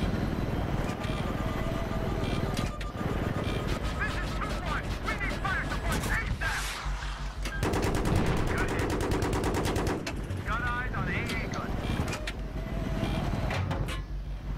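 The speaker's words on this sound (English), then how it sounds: "we're getting shot." Gunfire in Battlefield 3 during a co-op mission, dense automatic bursts and rapid rattling shots over a loud constant battle din, with voices talking.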